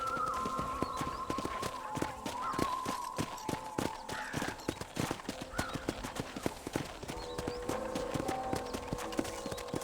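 Horse hooves clip-clop in a steady, fairly fast rhythm across dirt in the Red Dead Redemption video game, a continuous stream of distinct hoof strikes with faint background tones and no talking.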